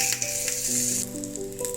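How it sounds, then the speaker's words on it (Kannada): Cumin seeds and curry leaves sizzle in hot oil for a tempering, a steady crackling hiss throughout with light stirring rattles and faint tonal background music underneath. "ಎಣ್ಣೆ ಕಾದ್ಮೇಲೆ ಜೀರಿಗೆ ಹಾಕಿ, ಸ್ವಲ್ಪ ಹಿಂಗೆ ಹಾಕಿ, ಆಮೇಲೆ ಕರಿಬೇವಿನ ಸೊಪ್ಪು ಹಾಕಿದರೆ"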